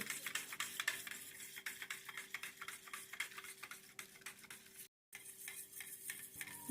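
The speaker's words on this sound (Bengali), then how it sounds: "এবার এই দুধটাকে গরম জলের সাথে খুব ভালো করে এইভাবে মিশিয়ে নিতে হবে" Powdered milk stirred into warm water in a steel bowl, a quiet rapid rhythm of spoon strokes scraping and tapping against the metal, near and faint, with one brief gap of silence.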